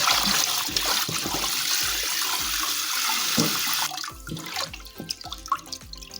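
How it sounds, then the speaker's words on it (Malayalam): Running water splashes and pours as raw sardines are washed for pickle, with rhythmic sloshing and handling thuds close up, then the flow stops, leaving drips and clattering. "അടിപൊളിയായിട്ട് കഴുകി വൃത്തിയാക്കി എടുത്തിട്ടുണ്ട് നമ്മൾ അപ്പോൾ നമ്മളിതേ നമ്മുടെ മീനെല്ലാം കഴുകി വൃത്തിയാക്കി വെച്ചു"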